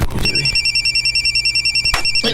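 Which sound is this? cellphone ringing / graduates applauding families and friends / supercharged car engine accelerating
cellphone ringing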